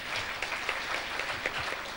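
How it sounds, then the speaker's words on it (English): A crowd claps at a young scientists awards ceremony in Tanzania, moderately loud applause with a few sharper individual claps standing out, running for a couple of seconds with no voices. "A round of applause to them for that"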